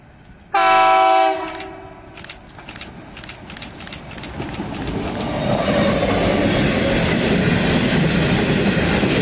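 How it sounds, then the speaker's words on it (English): A loud train horn blasts briefly, then a Pacific National limestone freight train rumbles and clatters past nearby through Wingello station, the rolling noise building steadily and continuing to the end. "We have 12:25 Pacific National's Limestone train passing through platform number"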